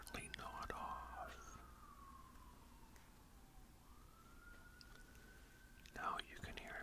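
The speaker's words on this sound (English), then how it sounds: "Now you can hear a siren in the background." Distant siren outside, a faint wailing tone that slowly falls and rises again over several seconds beneath soft whispering and quiet room noise.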